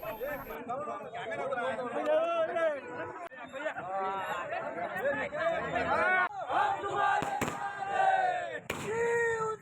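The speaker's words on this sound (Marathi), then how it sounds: "फटाक्यांची आतषबाजी व घोषणाबाजी देत आनंद व्यक्त करण्यात आला" A large crowd of Shinde faction party workers shouts slogans in celebration, with overlapping voices chanting and cheering loudly throughout and occasional sharp cracks of firecrackers.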